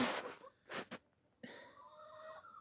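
A few soft clucking bursts from nearby chickens in a snowy yard at the start, followed by a quieter stretch with faint bird-like tones in the background.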